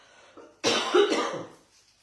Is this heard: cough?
yes